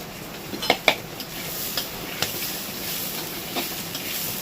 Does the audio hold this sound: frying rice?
yes